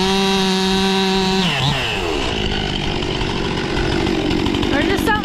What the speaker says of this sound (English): There's just something sexy about a man with a chainsaw.